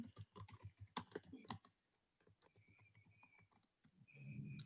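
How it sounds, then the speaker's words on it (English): Typing on a computer keyboard during an online panel discussion, with quiet, rapid, uneven key clicks in bursts and a brief pause midway, faint overall. "I'm just typing it out."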